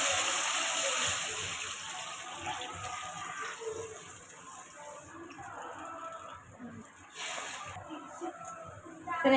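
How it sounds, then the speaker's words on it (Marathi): Water poured into a pan of bhagar (barnyard millet) while cooking, with a running, splashing flow at moderate level and faint background noise, a brighter splash burst near the end. "याच्यामध्ये मी आता पाणी टाकते लगेच."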